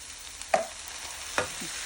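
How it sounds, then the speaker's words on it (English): A spoon stirs minced garlic and canned corn in a pot for arroz con pollo, giving two quiet, separate scraping strokes over a faint, steady background hiss. "Give it a good mix."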